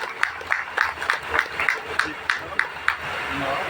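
Audience clapping to welcome a guest onto the dais at a music video launch event, a steady run of evenly spaced claps in the room, with a voice speaking over them.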